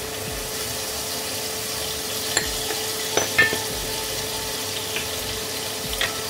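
Chicken breast frying in a pan with a steady sizzle throughout, broken by a few brief clicks and scrapes of stirring, without speech.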